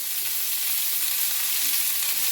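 Black cumin, dried chilies, onion and garlic frying in hot mustard oil, a steady bright sizzle that holds evenly throughout with no voices.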